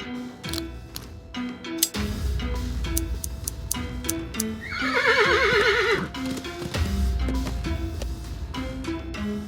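A horse in the point-and-click game Willi Morgan and the Curse of Bone Town gives a long, wavering whinny in the middle, framed by clip-clop hooves, ticking clicks and a looping game melody throughout.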